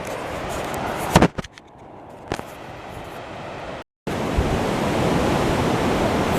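Surf washes over a rocky beach at low tide in a steady, broad roar, with a couple of louder wave crashes and a brief dropout before the wash resumes.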